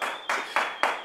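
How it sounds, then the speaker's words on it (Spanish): A few sharp, loud hand claps from a radio studio audience welcoming a guest, about three quick bursts spaced evenly apart, close to the microphone, with a thin steady tone underneath. "Por favor, un aplauso."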